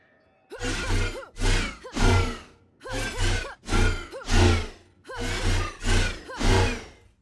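Character breathing effect from the Unity 3D Game Kit, looped for a health level: eight loud, close breaths in a steady rhythm, each a voiced, strained inhale-exhale with brief gaps between, heard alone.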